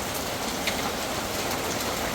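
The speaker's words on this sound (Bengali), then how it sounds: "যে বৃষ্টি নামছে দেখেন কি অবস্থা" Rain pours down in a dense, unbroken hiss for a couple of seconds, steady and fairly close, with no voices.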